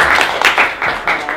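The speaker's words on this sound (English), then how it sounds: "let's give our speakers a round of applause" Audience applause for speakers at a college careers event, a dense burst of clapping from a crowd that swells in uneven waves over a short stretch.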